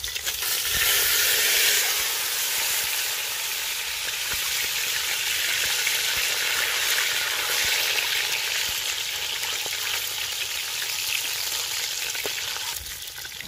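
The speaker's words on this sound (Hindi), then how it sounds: "इनको थोड़ा थोड़ा हम फ्राई कर लेंगे।" Boiled desi eggs fry in oil in a kadai with a loud, steady, close sizzle that holds without a break throughout, broken only by faint stirring scrapes.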